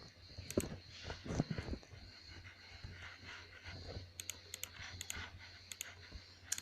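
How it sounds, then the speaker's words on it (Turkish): Sharp mouse clicks during a Minecraft session, landing in uneven bursts alongside light keyboard-like tapping, close and fairly quiet with no talking. "Mouse'a gösterdim. Hemen oraya tıklıyorum."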